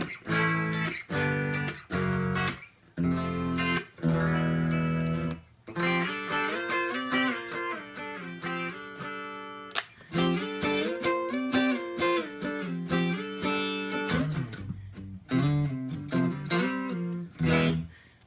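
Stratocaster with single-coil pickups played through a Joyo Classic Flanger pedal into a Behringer FCA 1616 preamp and studio monitors, no amp; clean strummed chords and picked phrases with a sweeping, swirling tone, steady and close, no talking.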